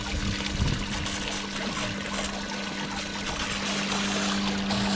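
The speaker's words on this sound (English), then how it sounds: "Water's hitting the wood and heading out the back of it here." Water runs steadily through a small mini-jig gold sluice, striking wood and draining out the back in a continuous close splashing rush.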